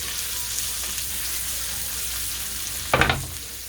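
A New York strip steak sears in a pan with a steady close sizzle, then a brief louder burst of crackling as the meat is moved, no voices present.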